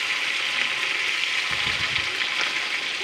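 Flipped hilsa fish pieces fry in hot oil, giving a loud, continuous close sizzle with a brief low rumble of movement in the middle.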